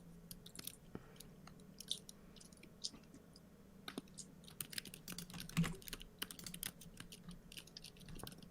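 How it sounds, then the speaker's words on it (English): Scattered keystrokes and clicks of typing on a computer keyboard during an online Pong esports match, faint and intermittent, with short bursts and pauses over a low steady hum and no talking. "Why are you typing?"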